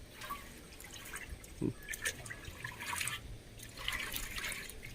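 Pond probiotic being stirred into water by hand, a soft continuous sloshing and dripping nearby with faint background noise.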